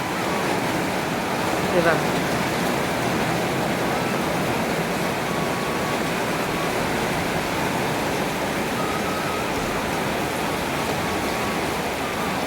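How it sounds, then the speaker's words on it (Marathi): A sudden heavy downpour pours steadily, filling the air with a dense, unbroken hiss for the whole stretch, with faint voices barely audible beneath it. "आज अचानक पाऊस पडायला लागला"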